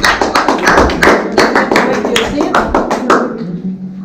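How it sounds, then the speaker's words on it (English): Students at a school meeting applaud presenters with loud, close claps, somewhat uneven and tapering off near the end, with voices underneath. "Give applause for them."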